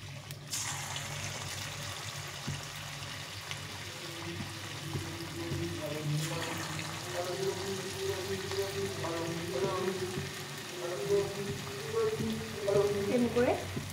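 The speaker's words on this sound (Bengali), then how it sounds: "এখন এরকম করে পকোড়ার মতো করে ভাজতে হবে।" Spoonfuls of batter of plain potato pakoras fry in hot oil, giving a steady, close crackling sizzle that runs throughout, with faint tonal voice-like sounds in the background.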